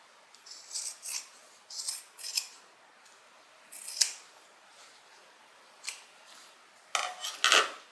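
Sewing scissors trim fabric for a Fairhaven tote bag in a series of quiet, crisp snips and cuts with short pauses between them, close up and alone.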